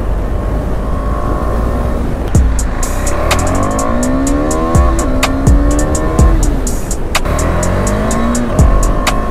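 Go-karts racing on a track at night in Hyderabad, with engines whining and rising in pitch as they accelerate and pass, sharp repeated clicks and impacts in between, loud and close throughout.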